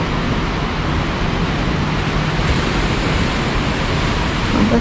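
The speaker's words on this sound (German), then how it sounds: "Und da ist der wunderschöne Ozean." Ocean waves at Playa de las Americas, Tenerife, in August, heard as a steady, loud wash of surf that continues without a break and with no voices.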